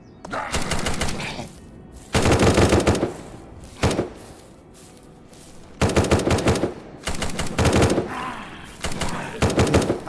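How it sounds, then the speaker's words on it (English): Bursts of rapid automatic gunfire in the zombie survival video game Dreadzone, several loud volleys separated by short pauses, with no talking. "So you gotta love when you hear the gunshots,"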